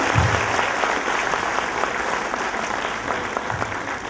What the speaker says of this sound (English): A big round of applause, thank you.